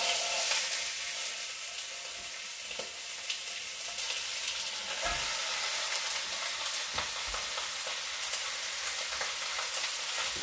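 Lamb shanks sear in hot oil in a stovetop pan, giving a steady, moderately quiet hiss and crackle with a few soft pops and bumps, with no voices.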